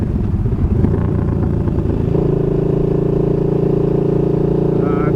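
A vehicle rounding a gravel-strewn curve, a loud steady engine drone with rough crunching texture early on, then settling into a smoother sustained hum.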